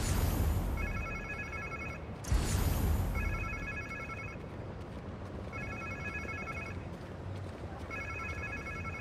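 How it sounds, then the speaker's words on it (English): A mobile phone rings inside the Spider-Man 2 video game, repeating bursts of electronic trilling in a steady pattern over ambient game background noise, with a short thump partway through. "Sounds like somebody's phone."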